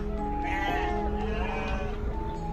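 Sheep in a simple pen bleat several times close by, overlapping wavering calls rising over a low farmyard background.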